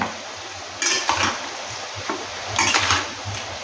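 Chicken being mixed by hand with coriander and cumin for a curry, with moist squelching and light clinks and scrapes against a pot or bowl in a few short bursts, close and moderately loud, no talk.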